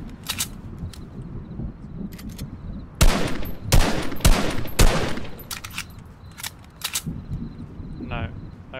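Gunfire crackles in a Fortnite Arena match, with several sharp loud bursts mid-way and scattered shots around them, mixed with game effects and players talking.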